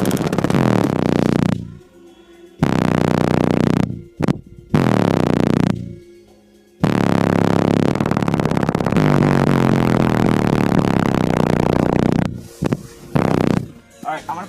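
A Hifonics Brutus 15-inch car subwoofer pumps very loud bass in bursts with short gaps between them, the sound heavily clipped and distorted by the overloaded recording.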